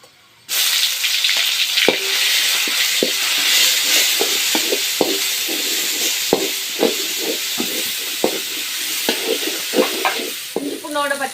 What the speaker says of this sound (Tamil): இஞ்சி பூண்டு பேஸ்ட்டு சேர்த்து நல்லா வதக்கிக்கலாம் எண்ணெயிலேயே